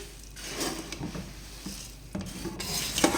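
Puffed rice mixture being stirred together in a bowl, a dry rasping and rustling scrape that comes in uneven strokes with a few sharper clicks of the spoon, close and fairly quiet.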